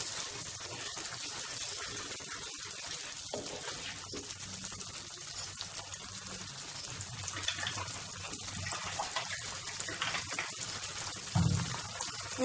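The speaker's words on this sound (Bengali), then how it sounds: "আমি সামান্য জল দেব, একটু মিক্স করে দিই ভালো করে।" Water poured into a pot of butter chicken on the stove, a continuous soft splashing gush that runs steadily for several seconds, close by and with no talking.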